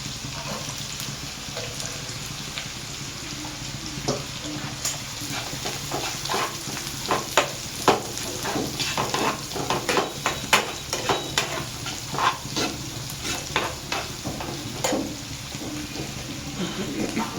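Onion frying in a pan for a chutney, with a continuous sizzle and a long run of brisk stirring scrapes and taps building in the middle, close and without talk.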